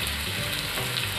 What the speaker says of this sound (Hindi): एक एक करके पूरी डाल देना पड़ेगा।